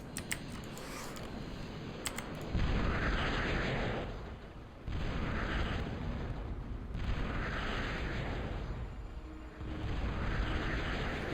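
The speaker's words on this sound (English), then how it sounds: "We successfully bombed an enemy fighter while he was on the ground" Bombs land on enemy units in the strategy game Total Annihilation, making a dense series of heavy, rumbling explosive bursts that swell and fade in waves, with faint clicks at the start.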